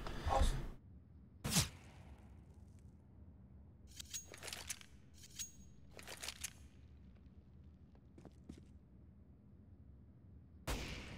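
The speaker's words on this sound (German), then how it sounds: "da geht der Schuss weg" Gunfire in the video game CS:GO, a few sharp separate shots spaced apart, with softer game noises and quiet stretches between them.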